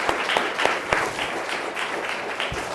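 A seminar audience claps after an ethics lecture ends, steady mid-level applause with a few sharper individual claps standing out near the start, sustained for the whole moment.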